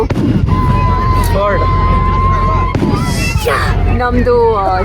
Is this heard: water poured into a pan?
no